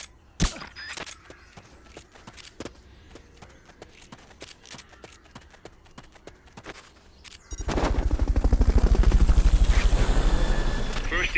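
Scattered gunshots and clicks give way to a loud, steady helicopter rotor thump and engine roar that fills the last few seconds, from the video game Metal Gear Solid: Peace Walker.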